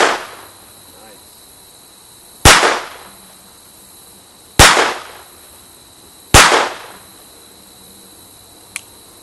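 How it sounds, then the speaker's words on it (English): Three sharp, loud gunshots from a Walther P22 pistol, evenly spaced a couple of seconds apart with quick ringing decay, then a faint click near the end. "it's my turn with Walther P22. This is a phenomenal shooting gun for training purposes"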